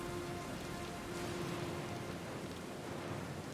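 A storm at sea in the video game Pillars of Eternity II: Deadfire, a steady rain-like roar with a low rumbling undertone that holds evenly for a few seconds, with no voices.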